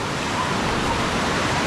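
Fast floodwater roars after prolonged heavy rain in a thick, unbroken rush, loud and close with no pauses.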